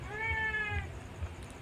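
Cats at dinnertime give one clear, drawn-out meow lasting under a second, loud and close, then fall quiet over low background rumble.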